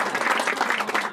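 A comedy show crowd keeps up brisk, close applause, a short dense burst of many hands clapping.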